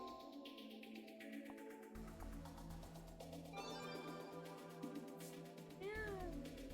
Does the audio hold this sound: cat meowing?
yes